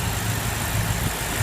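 A 2014/2015 BMW M5 F10 with a 4.4-liter direct-injection V8 idling, heard as a steady low rumble with a gentle pulse, close and alone.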